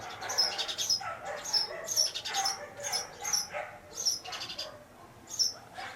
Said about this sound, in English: My dogs are barking a lot.